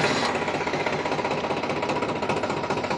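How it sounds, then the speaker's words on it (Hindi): Sonalika tractor diesel engine running steadily at close range, a loud, even mechanical clatter with rapid knocking pulses and no pause throughout. "साथ ही अब हम आपको इस ट्रैक्टर को स्टार्ट करके इस ट्रैक्टर के टर्निंग रेडिएशन और साउंड नॉइजेशन को चेक कराते हैं।"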